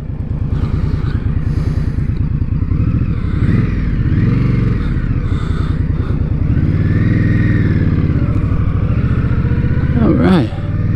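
A stock Indian motorcycle on a demo-day test ride along a country road, its engine rumbling steadily up close with gear changes and revs, under wind noise while the rider talks.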